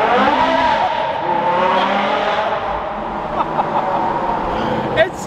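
A Bugatti Chiron on New York City streets, its engine revving with rising and falling tones over several seconds, loud and close, with people talking over it.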